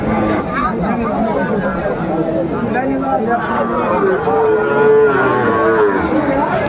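Several Sahiwal bull calves moo loudly and repeatedly over a busy cattle market crowd in Joypurhat, with people chattering all around in the background.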